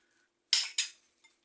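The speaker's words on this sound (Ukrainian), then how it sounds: "Перший шар у нас рис. Приблизно одинаково і трошки-трошки ложкою придавлюємо." A metal spoon presses down a layer of boiled, salted and rinsed long-grain rice in a mould for a layered salad, giving two quick close scraping clinks that fade, with a faint tap after.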